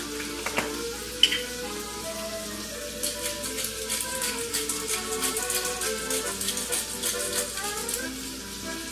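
Hanger steak sizzling in a pan, a steady, quiet crackle and spatter close by, with a faint background hum and no talking.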